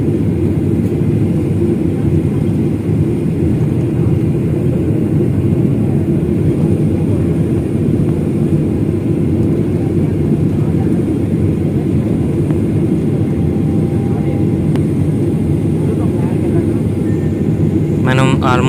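Steady, loud airplane cabin drone during a flight as the plane nears its destination, a dense low rumble that holds evenly throughout with faint voices beneath it.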